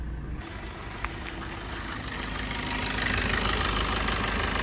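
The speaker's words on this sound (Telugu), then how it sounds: "ఇంజన్ బీటింగ్ అయితే చాలా నీట్గా ఉంది" A 2019 Maruti Brezza VDi diesel engine idling, a steady close rumble with an even mechanical clatter that grows slightly louder toward the end, with no speech over it.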